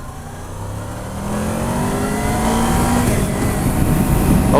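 A 2007 Honda VFR 800 motorcycle engine revs up loudly and close, its pitch climbing steadily as the VTEC kicks in above 6,500 RPM.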